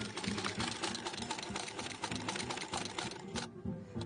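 An antique model 28 sewing machine stitches steadily, a fast even mechanical clatter that runs close and fairly quiet, then eases off near the end.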